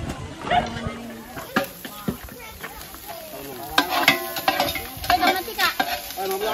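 Food frying in a pan for a community meal is stirred with a utensil, giving repeated scraping and clanking strokes over a soft sizzle, close by, with people talking throughout.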